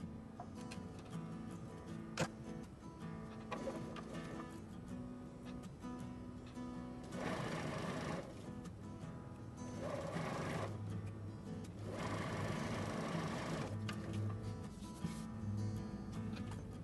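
Faint, steady stitching of a sewing machine joining quilt blocks to sashing strips, running continuously with rhythmic mechanical ticking that swells in several louder stretches.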